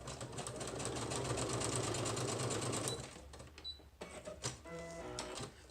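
A sewing machine stitches paper scraps into a junk journal, running in a rapid, even chatter for about three seconds, then a few short bursts and clicks follow.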